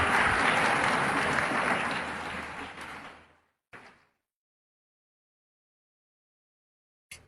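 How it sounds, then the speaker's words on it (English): Loud crowd applause for a speaker at a youth event in Chhattisgarh, holding steady for about three seconds before fading out, followed by a brief clatter and then silence. "A big round of applause for Nandini Yadav."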